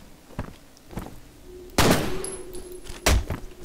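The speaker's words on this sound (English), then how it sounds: "I just shot it, there we go." Gunfire in the first-person shooter F.E.A.R., with a few sharp loud shots and bursts over a low game ambience and a faint steady tone, spaced irregularly across a few seconds.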